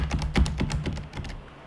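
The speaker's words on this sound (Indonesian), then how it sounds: "waktu kita meeting kayak begitu dan kemudian kita mau ngetik ya" Rapid keystrokes on a computer keyboard are picked up up close by the laptop's built-in microphone, a quick irregular run of clicks and taps.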